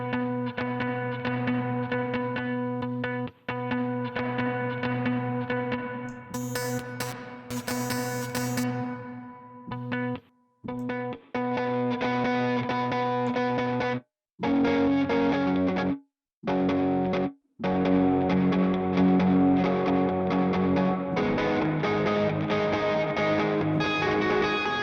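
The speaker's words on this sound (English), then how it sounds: "now we can play with the reverb" Sampled instrument played through a reverb effect from the Indie Fingers Vol 3 library, sustained tonal notes with distorted, washy texture, several abrupt cut-offs to silence, and small licks layered over the top.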